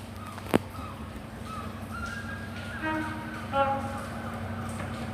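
An HST empty stock movement at Exeter St Davids station sounds a two-tone horn at moderate distance, the pair of tones rising over a steady low rumble of the train and general station noise.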